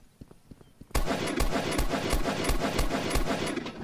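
Rapid automatic gunfire from a Roblox battle royale video game erupts after a few faint clicks, then continues as a dense, loud stream of shots that holds to the end.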